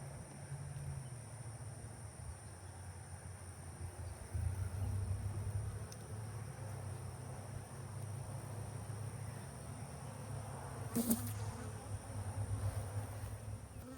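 Southern Italian honey bees buzz during installation of a package into a beehive, a close, continuous low drone that swells and wavers, with a brief sharp knock partway through.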